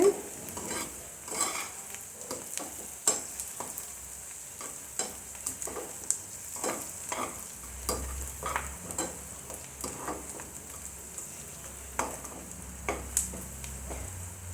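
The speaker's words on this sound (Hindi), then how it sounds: "ਪਿਆਜ਼ਾਂ ਨੂੰ ਆਪਾਂ ਜ਼ਿਆਦਾ ਨਹੀਂ ਇਹ ਭੁੰਨਾਗੇ" Onions frying in a pan for paneer bhurji, a steady soft sizzle under repeated light scrapes and stirs of a spatula, fairly quiet and close.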